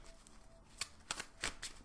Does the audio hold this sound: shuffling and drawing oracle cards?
yes